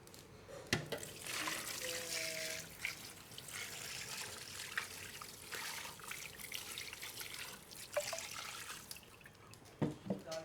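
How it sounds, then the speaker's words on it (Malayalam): Water trickles and drips steadily into a cooking pot of buffalo leg curry spiced with garam masala and Kashmiri chilli, a close, continuous pour with a few sharper splashes and knocks. "ഇനി ഇതിൻ്റെ നമ്മൾ വെള്ളം ചേർക്കും ഒഴിക്കട്ടെ"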